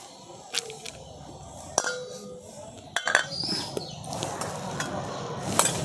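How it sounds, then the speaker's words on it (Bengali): Lid lifted off a pan of semolina-and-potato batter cooking with almost no oil, giving a few sharp metallic clinks and taps over a soft sizzle, with faint kitchen clatter around them. "দেখুন ঢাকাটা তুলে নিচ্ছি।"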